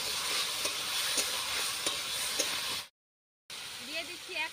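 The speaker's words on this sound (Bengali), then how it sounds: "দেখুন মশলা থেকে কত সুন্দর তেল ছেড়ে গেছে, ওর মধ্যে দিয়ে দিচ্ছি ভেজে রাখা আলু আর ভুট্টাগুলো।" Fried potatoes and corn go into spiced oil in a pan, giving a loud, close sizzle with rhythmic stirring scrapes. The sound stops briefly, then resumes with someone talking over it.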